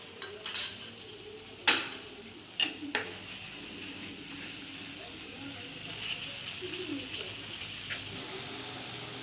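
Tomato paste is added and stirred into spiced oil in a pan: a few sharp metallic clanks of a spoon against the pan open the clip, then a quiet, steady sizzle continues alone.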